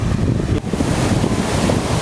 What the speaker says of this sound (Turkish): Yani yüksek yüksek dalgalar var ileride.